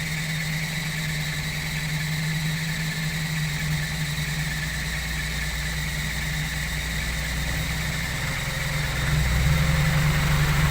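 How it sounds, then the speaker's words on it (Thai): A vehicle engine idles while warming up, a steady, close rumble with a constant drone and a slight swell near the end. "รออุ่นเครื่องก่อน"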